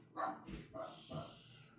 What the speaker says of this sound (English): My dogs are ridiculous.